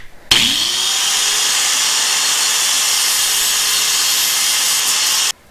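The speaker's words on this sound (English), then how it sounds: "This cable's really thick and I want to get a nice clean cut, so I'm going to use an angle grinder here" An angle grinder cuts through a thick electric-bike cable with one loud, continuous, close high-pitched whine and grind that starts abruptly, holds steady for about five seconds and cuts off sharply.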